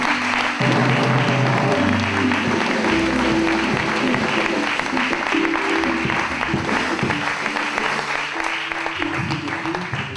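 A congregation at a Pentecost seminar in Paris applauds and cheers the pastor, with sustained loud clapping from a large crowd over steady tones of accompanying music.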